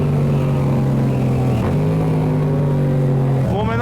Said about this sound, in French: Est-ce que vous aimez ce bruit de Akrapovic Carbon Racing sans sa chicane?